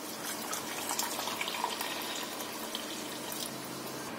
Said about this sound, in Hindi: इसे बनाने के लिए एक कप हमने सूजी ली है, इसमें हम डालेंगे 2 कप गर्म पानी।